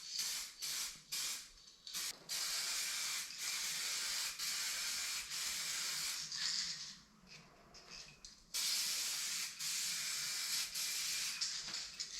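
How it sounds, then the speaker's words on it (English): A two-part aerosol clear coat sprays in long, steady hissing bursts with short pauses between passes, fairly close and continuous, as it coats a model canopy and side hatch doors. "the clear coat is a 2-part aerosol can affair"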